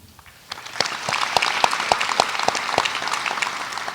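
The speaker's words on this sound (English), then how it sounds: "We'll hold the applause until the end." Audience applause swells at a medical school white coat ceremony, sharp individual claps quickly building into dense, sustained clapping from a large crowd.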